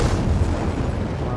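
An explosion in the zombie video game Dying Light 2 rolls out as a short, heavy, low boom and rumble, loud throughout.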